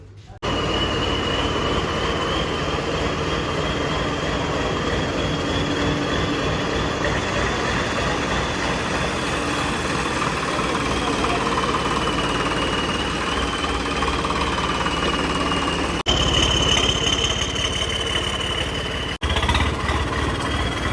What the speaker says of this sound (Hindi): लो भाई निकाल लिया ट्रैक्टर बाहर